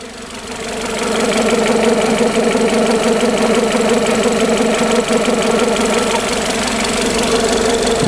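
A Citroën C4 engine runs steadily with a strange noise near the belts, a continuous close, loud mechanical drone with knocking and rattling texture after a short rise at the start, no talk.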